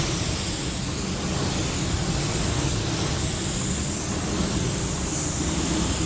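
Porphis PRD-717 split tip spray nozzle spraying at 30 psi, a loud, steady, unbroken hiss of air and spray held evenly throughout with no talk.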